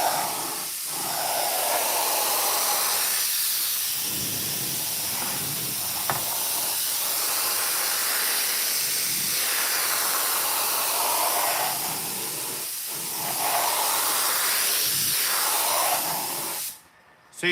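Spray gun shooting paint along the edges of 1960 El Camino skirt panels in metal flake Raiders colors, a steady close hiss in several bursts with brief pauses between passes.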